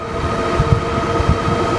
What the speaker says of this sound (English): it's super windy right here